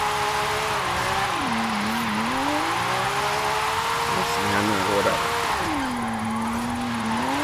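A Lamborghini's engine revs and drifts in Forza Horizon 5, a steady, loud engine drone rising and falling in pitch as the car slides through turns, continuous throughout with faint background texture.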